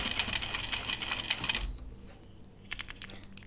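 A sewing machine runs in a rapid, steady burst of stitching through thick denim jeans, close and moderately loud, then stops abruptly into quieter scattered clicks.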